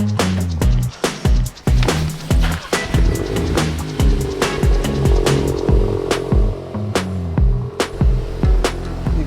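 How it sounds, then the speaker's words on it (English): Porsche exhaust heard up close as a series of sharp, rhythmic pops and crackles over a deep burbling idle, loud and repeating steadily throughout. "Exhaust doesn't sound like too bad"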